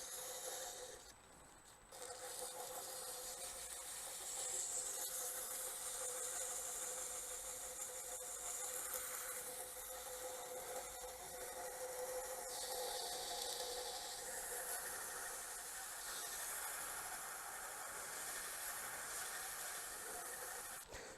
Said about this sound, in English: I'm just really using the harshest grit sandpaper I've got to just take the tool marks out